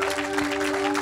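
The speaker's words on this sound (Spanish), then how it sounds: "Just one person is gonna clap." Audience applause in a church service, a dense steady patter of clapping from a crowd over a sustained tone, lasting only a moment.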